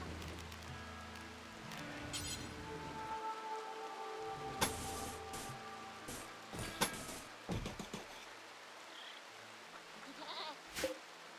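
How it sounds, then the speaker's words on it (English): Steady rain hisses through a temperate forest in the video game RimWorld, with a few bleating animal calls and scattered thuds rising above it. "Rain drifts through the temperate forest."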